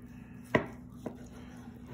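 A knife slicing through smoked brisket against the grain: one firm, close chop onto the board followed by a softer second cut, quiet otherwise, no talking.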